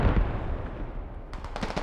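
Artillery fire in the video game Squad, a heavy low boom rolling and fading, followed by a quick cluster of sharper, crackling blasts near the end, with no voices.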